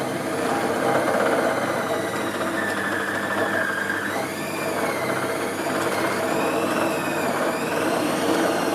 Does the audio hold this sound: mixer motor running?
yes